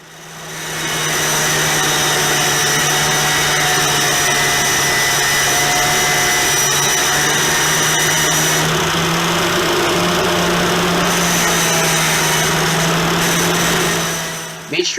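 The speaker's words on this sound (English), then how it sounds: "I'm using an angle grinder here" An angle grinder runs steadily, sharpening a metal stake for a heavy-duty fishing rod holder, giving a loud, continuous motor whine that holds for nearly the whole stretch before winding down at the end.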